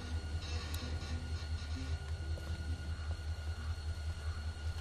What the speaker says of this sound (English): Train's cool, huh?